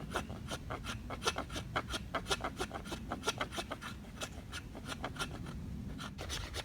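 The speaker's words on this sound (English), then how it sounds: "I'm going to take this piece of fat lighter, and I'm going to make some fine scrapings" A knife blade scrapes fine shavings from a piece of fat lighter (resinous pine) wood in quick, rhythmic strokes, each a crisp rasp, close up and fairly quiet with no talk.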